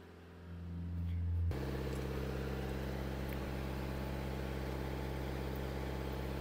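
A Mercedes engine with an AdBlue, DPF and NOx fault settles from a brief rising hum into a steady idle, a constant low drone with an even mechanical tone up close.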